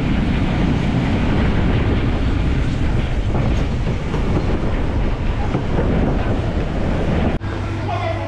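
A steam train runs at Castlemaine, a loud, continuous rumble and rattle of carriages with wind buffeting the microphone, ending in a brief cut to a quieter steady hum near the end.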